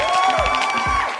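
An audience cheers and whoops for an arriving guest, a loud, close burst of crowd noise with excited shouts rising over it.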